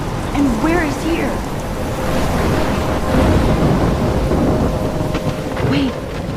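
A thunderstorm in the video game Life is Strange brings loud, dense rain and deep thunder rumbling throughout, while a voice speaks briefly over the storm.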